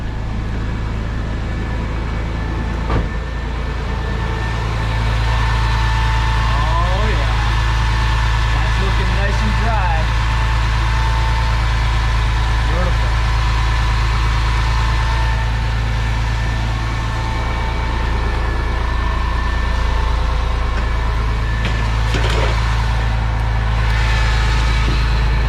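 A Porsche 911 996 engine idles smoothly after an FVD Motorsport oil pan install, a steady low hum close by. People talk over it.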